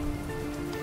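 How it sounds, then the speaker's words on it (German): Rain falls steadily in the survival video game Mr. Prepper, a dense continuous patter on a surface with a faint tonal hum underneath, no voices. "Es regnet, das heißt, wir können Wasser organisieren."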